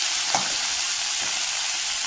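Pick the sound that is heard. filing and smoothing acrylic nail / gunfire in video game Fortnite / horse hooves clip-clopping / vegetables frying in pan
vegetables frying in pan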